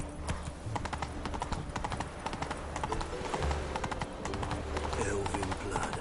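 Roach the horse trotting in The Witcher 3, a rapid, even clip-clop of hooves close up over a low background hum, continuing steadily throughout.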